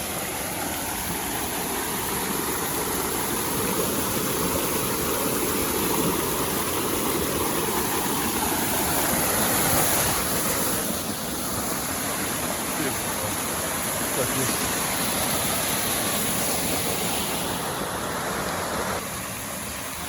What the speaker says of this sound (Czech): Další vodopád.